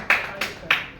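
Three short, sharp bursts of audience applause in a hotel meeting hall, each a brief clap cluster separated by quiet gaps, close and moderately loud.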